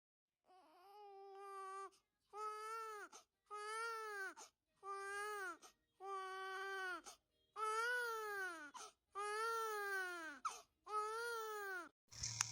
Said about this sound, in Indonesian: dia samar mendengar suara tangisan bayi